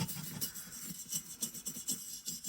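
A hand brush sweeps wood dust and chips off a Rockwell 6x48 belt sander during a restoration, making soft, fairly faint bristly strokes in an uneven rhythm, close by and with no voices.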